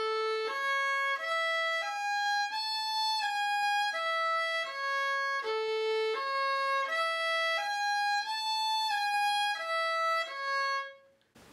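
Solo violin playing the second half of the solo part from a song, all in first position, a steady melodic line of sustained bowed notes, close and clear, for about eleven seconds before stopping.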